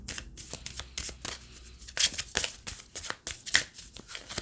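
Moon tarot cards are shuffled by hand in quick, papery riffles and flicks, close and quiet with no talking.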